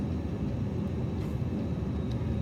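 Airplane engine droning steadily as the plane slows on its landing approach in a flight simulator, flaps extended, a continuous low rumble with no breaks.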